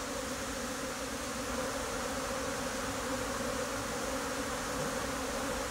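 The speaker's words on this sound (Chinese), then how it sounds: "蜜蜂越来越多，越来越多。" A honeybee swarm flies back to its hive in a city, a dense, continuous buzzing hum from many bees that holds steady and fairly loud with no voices.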